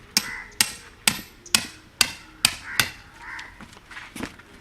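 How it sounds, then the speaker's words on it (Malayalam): Sharp hammer blows drive nails into a stake to pin down a fresh animal hide outdoors, about eight loud, evenly spaced strikes followed by softer, quicker taps. "ആണി വെച്ച് അടിക്കും."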